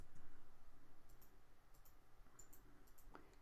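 Soft, close clicks of keys being pressed on a computer keyboard, a handful of scattered taps at an uneven pace, faint and with no voice.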